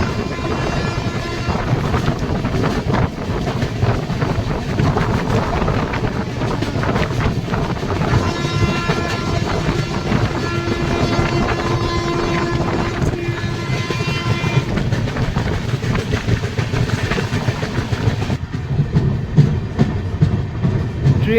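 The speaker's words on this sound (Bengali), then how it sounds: "ট্রেন এবার কাঁসাই নদী পার করতে চলেছে" Rupasi Bangla Express passenger train running near Medinipur toward the Kansai river, with a steady, loud, continuous rumble and rattling wheel noise close by, and no voices.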